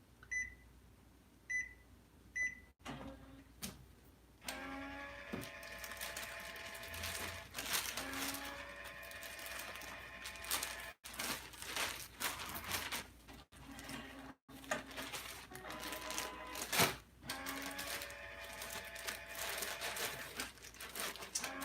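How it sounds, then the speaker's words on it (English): An Epson P600 printer runs a print head nozzle check, giving a quiet sequence of mechanical whirs, carriage movements and clicks with a few short beeps at the start, all fairly faint and close. "Let's go ahead and do a print head nozzle check and see where we're at on this."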